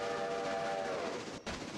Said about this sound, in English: Oh, he's blowing his horn